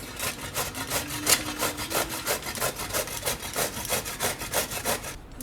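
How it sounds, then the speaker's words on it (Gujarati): Bottle gourd (dudhi), peeled, being grated by hand for chutney in a home kitchen: a steady, rhythmic series of rasping strokes, close and fairly loud, with no talking. "તો આને આ રીતે છીણી લેવું એને."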